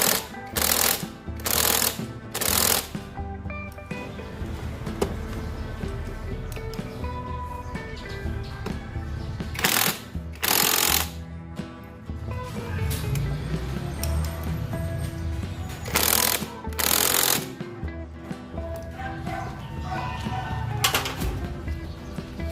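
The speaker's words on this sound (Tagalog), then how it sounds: "hinigpitan ko lang muna nitong impact drive yan" An impact driver tightens the one-way bearing bolts on a KLX 150/140 motorcycle. It fires in loud, close, rattling bursts: three quick ones in a row, then single bursts separated by longer pauses, over background noise.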